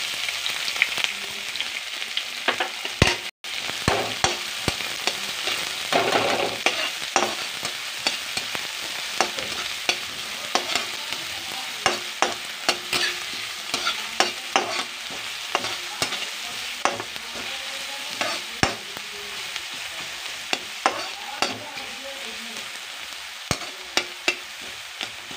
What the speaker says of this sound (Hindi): अब हम इसमें हमारे कटे हुए प्याज